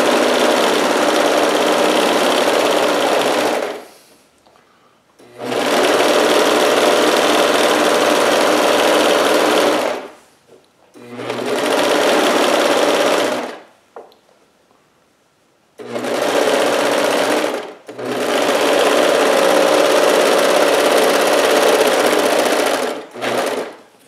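A home sewing machine stitching an aloha-style Hawaiian shirt runs in five loud, close bursts of steady whirring, separated by short pauses of near silence.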